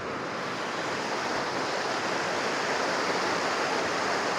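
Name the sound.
waterfall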